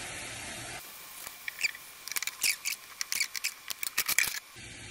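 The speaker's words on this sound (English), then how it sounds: "Makes funny noises. That's the eggs expanding in the waffle iron." Cauliflower waffle batter with eggs cooking in a waffle iron, giving off a run of quick, crisp crackles and hisses in irregular bursts, close and fairly quiet.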